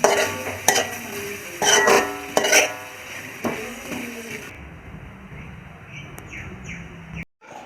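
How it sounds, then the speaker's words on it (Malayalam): A spatula clacks and scrapes against a pan as prawn roast with kudampuli is mixed, a few sharp metallic knocks early, then quieter stirring under faint background chirps, no voices. "ഇനി ഇതെല്ലാം കൂടി ഇളക്കി കൂട്ടുവാണ്."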